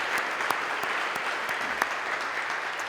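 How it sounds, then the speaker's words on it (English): Audience at a college commencement ceremony gives a big round of applause, dense steady clapping throughout with a few sharper individual claps standing out. "let's give them all a big round of applause"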